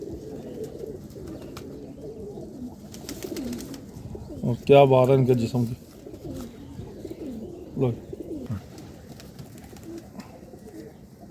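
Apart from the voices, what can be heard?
pigeons cooing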